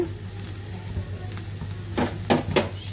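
Okra and potatoes frying in a pan give a soft, steady sizzle with a low hum beneath, broken near the end by a few louder scraping stirs.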